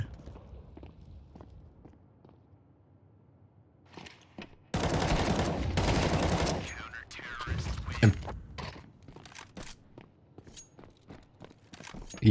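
Rifle gunfire in the video game Crossfire comes as a dense, loud burst lasting a couple of seconds, set among footsteps, mechanical clicks and scattered sharp shots.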